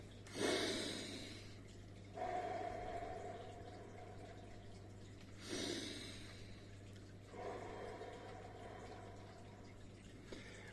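Slow, deliberate conscious breathing, drawn in through the nose and let out through the mouth, in four long breaths heard close and quiet over a steady low hum.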